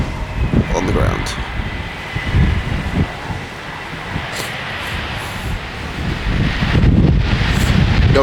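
Wind blows steadily at an outdoor aircraft spotting location by Edinburgh Airport, a broad rumbling buffeting on the microphone that swells in gusts throughout, with people talking faintly underneath.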